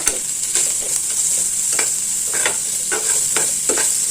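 Chana dal, coconut and carrot frying in a pan, with a steady close sizzle and repeated scraping stirs of a spoon against the pan, no voices.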